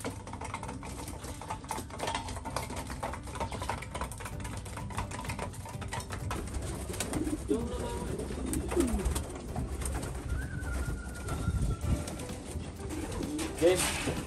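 Pigeons coo steadily through a loft at feeding time while hens, cocks and breeders eat a grain mix of barley, peas and corn, with close wingbeats and pecking over soft background noise.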